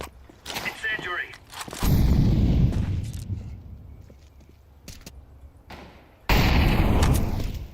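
Valorant gameplay with an incendiary ability: two loud, roaring, sustained bursts of deep rumbling hiss, each lasting a few seconds, amid sharp clicks and thuds of in-game action.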